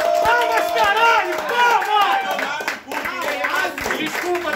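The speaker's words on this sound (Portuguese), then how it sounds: "Palmas, caralho!" Crowd at a freestyle rap battle clapping and cheering, sharp hand claps scattered under loud shouting and excited voices, with a brief dip before the noise surges back.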